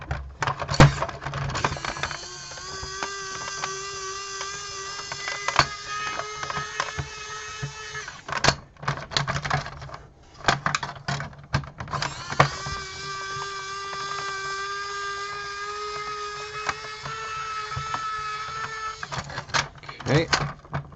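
A toy repair, removing screws from a M.A.S.K. Slingshot vehicle: a motorised screwdriver whines in two long, steady bursts, separated by short clicks and handling knocks, with a voice speaking at times.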